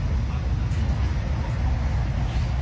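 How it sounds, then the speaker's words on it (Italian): Steady low rumbling and rushing hum inside a train travelling toward Florence, a continuous moderate drone with no voices. "Sono sul treno diretto a Firenze, dove cambierò per Arezzo."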